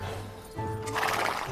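A sick horse named Thunder whinnies in a short, clear neigh that rises and wavers over a steady low hum, with a faint clip-clop of hooves in the background.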